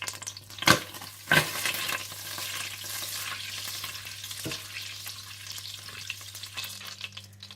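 Chopped onions dropped into hot oil and butter and frying, with a couple of loud clattering bursts early on followed by a steady low sizzle throughout, no talking.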